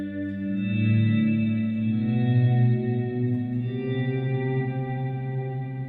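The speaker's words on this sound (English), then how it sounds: "I love to use this one, not so much the drone, but more the swells with the reverb cranked during clean" Clean electric guitar swells with heavy reverb and a chorus-like shimmer, notes fading in softly and blooming into a sustained, washy tone that rings on steadily for several seconds.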